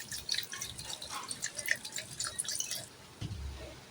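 Cold water pours for a chilled mango sherbet with sugar, black pepper, black salt, green chilli, cumin powder and mint, a steady close trickling and dripping that stops near the end, followed by a brief low thump.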